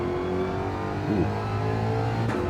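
A Mustang race car engine in Gran Turismo 7 holds a loud, steady, near drone, with a quick rising and falling pitch sweep midway as it shifts or revs.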